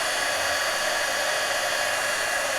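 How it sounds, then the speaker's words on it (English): Continuous hiss and whir of a heat embossing tool blowing hot air, steady and close throughout without any change or break. "So now I'm going to heat emboss."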